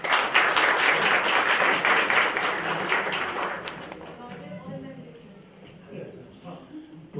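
A dense burst of audience clapping at an Urdu poetry recital in Sweden stays loud for several seconds, then thins and fades as a voice begins speaking.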